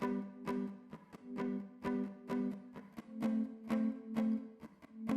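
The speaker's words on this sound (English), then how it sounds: "There's a second acoustic guitar we added that's kind of doing something really interesting." Rhythmic acoustic guitar chords strummed in an even pulse, each stroke swelling and fading like a sidechained pump, with a shifting chord voicing partway through, heard close and alone.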